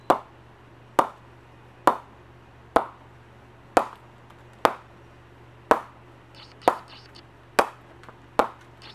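A ball is tapped against the face of an Adidas Libro cricket bat in a steady series of about ten sharp, evenly spaced knocks, each close and crisp with a brief ring, heard alone over a low background hum.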